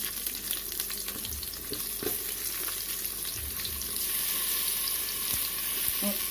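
Steady sizzling and crackling of onions frying in hot oil for chicken biryani, with occasional stirring scrapes, continuous and fairly close.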